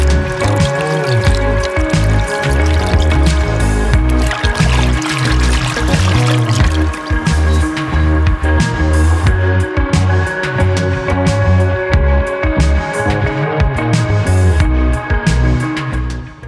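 Water pours steadily over a Realme X2 Pro smartphone in a waterproof test, a continuous splashing, gushing stream close up with no talk.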